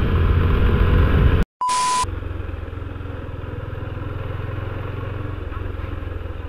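Yamaha FZ250 2017 motorcycle running on the road, a steady engine drone with wind noise, briefly cut by a short electronic tone, then settling into a lower, even rumble as the bike rolls along.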